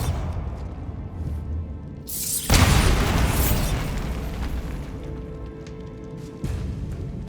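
A Bombarda spell blast in Hogwarts Legacy, set in the Feltcroft Catacomb: a loud, sudden booming explosion that rolls and fades over a couple of seconds amid low game ambience, followed later by a smaller thud.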